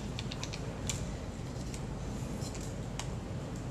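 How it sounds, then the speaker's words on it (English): A manual film camera's advance is wound on after loading, giving a run of small dry ratcheting clicks and creaks, close and quiet, scattered irregularly over a faint steady background. "And then just wind the film on."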